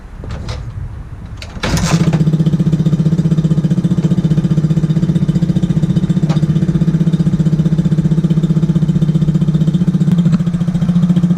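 A small X15 pocket bike engine sputters to life on full choke in cool 49-degree weather, then settles into a loud, steady, buzzing run that continues without a break for the rest of the clip.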